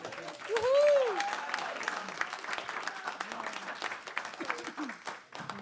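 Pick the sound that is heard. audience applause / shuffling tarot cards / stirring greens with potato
audience applause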